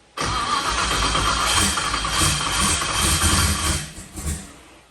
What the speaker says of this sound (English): Give it a little throttle when it starts.